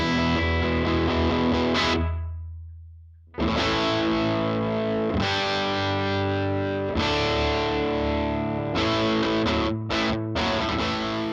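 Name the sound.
electric guitar recording playback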